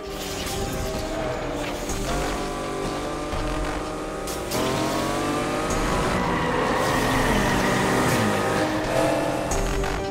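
A car engine in a Need for Speed Unbound street race revs hard and climbs in pitch through the gears, loud and continuous, with tire and road noise layered over a low rumble.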